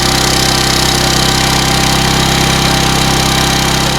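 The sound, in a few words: engine running with muffler on during emissions demo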